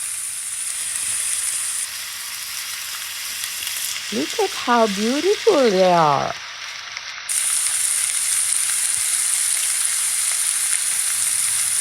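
Pork chops fry in a little oil in a frying pan, a steady close sizzle all the way through, with a voice briefly speaking over it midway.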